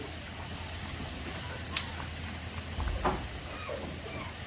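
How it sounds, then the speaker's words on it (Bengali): Fish pieces and two green chillies go into a hot pan of oil for a Bengali fish curry with black cumin, giving a low continuous sizzle with a few soft plops and stirring clinks. "এবার মাছগুলো দিয়ে দিচ্ছি, বাকি মাছগুলো, দুটো কাঁচা লঙ্কা দিচ্ছি"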